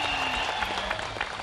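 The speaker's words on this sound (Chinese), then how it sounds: "恭喜我们2位晋级，掌声鼓励一下。" A studio audience on a Taiwanese TV variety show's magic competition claps steadily, a dense, even patter of many hands throughout, fairly loud and close with no voices.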